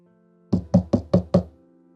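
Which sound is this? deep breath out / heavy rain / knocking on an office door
knocking on an office door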